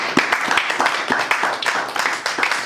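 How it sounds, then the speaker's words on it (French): A church congregation applauds during a worship service, a steady burst of rhythmic hand claps from a crowd close by. "Acclamons pour cette église"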